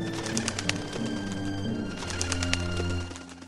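Birds calling in a forest, a story sound effect with dove-like cooing layered over a busy chorus of chirps, steady and fairly close throughout with no talking.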